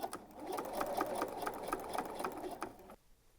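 A sewing machine runs in a steady rapid rattle, stitching quilted fabric for an oven mitt, then stops abruptly near the end, leaving quiet.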